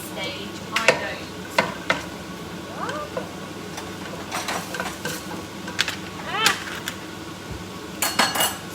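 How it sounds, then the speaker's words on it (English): Onions frying in a pan in a home kitchen while keema and bolognese are being made: a low sizzle under intermittent metal clinks and scrapes of a utensil stirring, with brief bursts of nearby talk. "Just frying off the onions."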